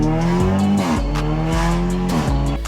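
A loud Audi A3/S3 engine with an aftermarket intake revs up and down repeatedly in steady pulses, with a deep, throaty intake roar and no talking.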